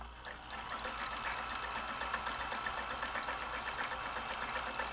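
A vintage Janome Combi DX 502 sewing machine runs at high speed, its rapid, even stitching pulses ticking close and steady over a soft motor hum.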